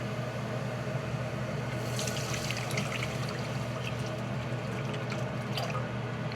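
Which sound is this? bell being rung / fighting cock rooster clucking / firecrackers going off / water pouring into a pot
water pouring into a pot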